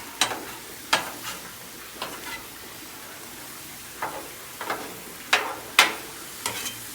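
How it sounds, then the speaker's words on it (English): Mushrooms sautéing with ground sirloin sizzle in a pan as a utensil breaks them up, giving about a dozen sharp scraping clicks at irregular intervals over a soft continuous fry. "Break up these mushrooms a little bit."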